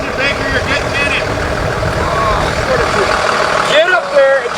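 A military truck idles at a forward operating base with a heavy, continuous engine drone, and loud voices call out on top of the running engine.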